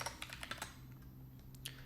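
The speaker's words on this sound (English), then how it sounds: "I'm going to start typing pedestrian signals" A computer keyboard clicks in a quick burst of keystrokes, then pauses before two more taps, close and fairly quiet over a low steady hum.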